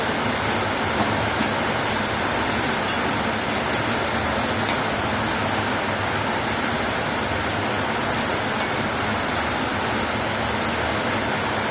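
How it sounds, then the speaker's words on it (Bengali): Mustard and poppy-seed soybean curry boiling in a pot gives off a continuous dense bubbling hiss, steady and close throughout with no voices. "এটা ফুটে উঠেছে দেখুন।"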